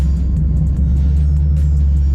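Supercharged V8 in a BMW drift car with a Japanese engine, idling loud and close as a deep, steady rumble with brief higher blips, no talk.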